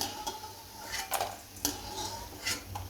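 Fried yellow and saffron boondi being stirred together for laddoos, with light clinks and scrapes of a spoon against a pot in a few scattered, close taps.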